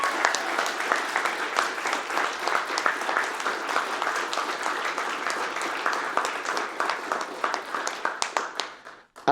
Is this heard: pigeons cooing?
no